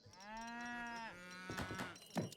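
Cattle moo in an Age of Empires III match: one long, drawn-out, tonal moo holds for about a second, then gives way to short, clicky game sounds.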